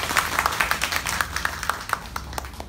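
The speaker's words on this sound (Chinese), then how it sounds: "我们用热烈的掌声欢迎王义中老师啊" Applause breaks out for a guest speaker at a book-launch talk on children's emotional and behavioral disorders: a moderate crowd clapping steadily with distinct individual claps for a few seconds, no voices.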